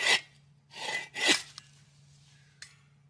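A push-type hand saw cuts through wood in three rasping strokes, the first short and the next two longer and close together. A couple of faint clicks follow over a steady low hum.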